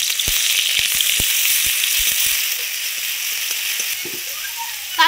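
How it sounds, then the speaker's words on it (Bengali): Onion paste dropped into hot oil in a kadai for a gravy, giving a steady bright sizzle throughout with a few soft stirring knocks, close and fairly loud. "এবার দিয়ে দিচ্ছি পেস্ট করা পেঁয়াজ"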